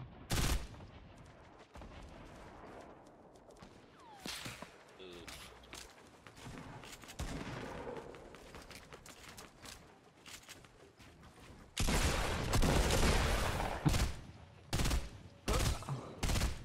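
Gunfire in the battle royale video game Fortnite comes in sharp, loud bursts, with scattered single shots early on and a dense, sustained volley near the end, mixed with players talking.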